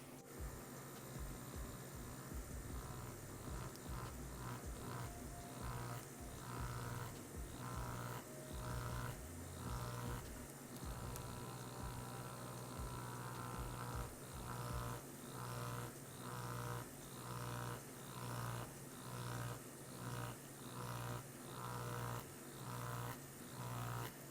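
Tattoo machine needles buzz steadily while smooth shading, close and continuous, with a rhythmic pulsing from repeated hand passes over the same area; no one speaks.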